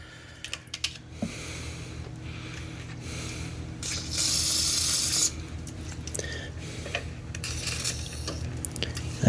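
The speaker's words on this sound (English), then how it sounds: "I need to hit that right down there with some WD-40." A can of WD-40 sprays onto a binding part of a lawn mower: one hiss of about a second amid scattered metallic clicks and handling clatter nearby.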